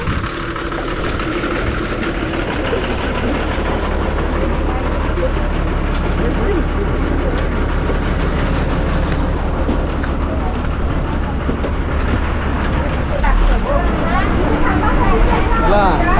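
A train running on rails in the Konkan, a steady loud rumble and rattle of wheels and carriages held throughout, with people talking close by over the running noise.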